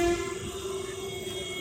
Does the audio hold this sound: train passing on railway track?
yes